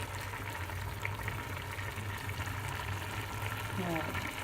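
Vegetable pulav rice simmers in an uncovered pot, giving a steady, dense bubbling hiss with a low hum underneath that continues evenly throughout.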